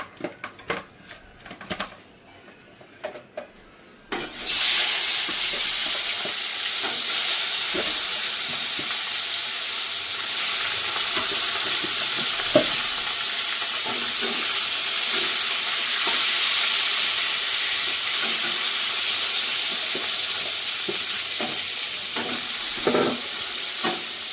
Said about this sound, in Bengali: এবার আমি মাছটাকে ভাজা বসিয়ে দেবো